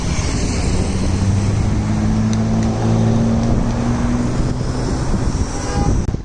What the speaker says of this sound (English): We have a BMW M2 here.